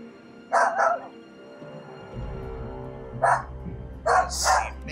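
A dog barks sharply in the background in short bursts, two quick yips near the start and more around the middle and end, over a low steady room hum.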